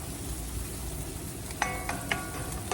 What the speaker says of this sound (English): About 2 heaping tablespoons of chopped garlic. I'm just letting this cook down low.